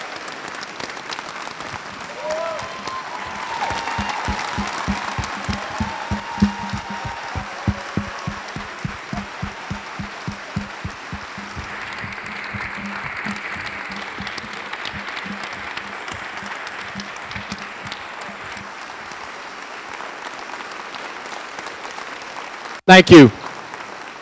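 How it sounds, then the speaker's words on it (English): An audience gives a round of applause for district board members at a school district kick-off event, with steady clapping lasting many seconds before it fades, then a brief loud burst near the microphone and a short spoken thanks. "Can we get a round of applause for them?"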